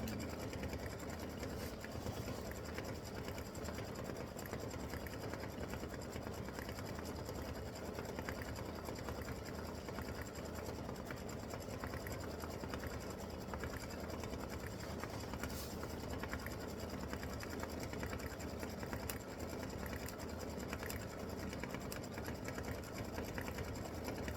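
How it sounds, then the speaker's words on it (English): An embroidery machine satin-stitches the head of a Valentine bear applique on a paper towel holder decor design, a steady continuous mechanical whir with a fine rhythmic stitching pulse, close and even throughout. "is going to do some satin stitching up on the bear's head"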